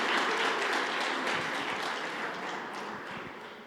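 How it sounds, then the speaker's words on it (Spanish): Scattered applause from a church congregation during a Spanish-language service, moderate and fading slightly over a few seconds. "Bueno, ya aplauda pues si quiere."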